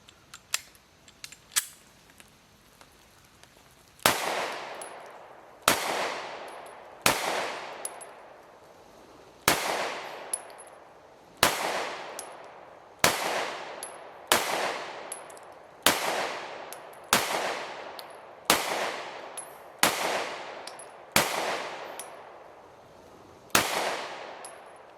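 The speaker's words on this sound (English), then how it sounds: "I'm going to put a mag of the Winchester White Box through" Taurus GX4 XL pistol firing Winchester White Box ammunition outdoors: about fourteen sharp, loud shots at a steady, unhurried pace, each with a ringing decay, after a few faint clicks of handling.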